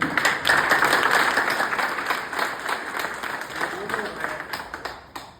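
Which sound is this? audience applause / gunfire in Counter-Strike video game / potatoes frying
audience applause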